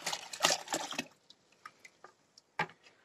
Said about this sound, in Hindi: तो दोस्तों मैं अब इस फर्टिलाइज़र को इससे 10 गुना पानी में वो ऐड कर लूँगा।